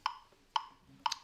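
A metronome ticks at 120 bpm, three sharp, evenly spaced clicks roughly half a second apart, quiet and isolated with nothing else around them.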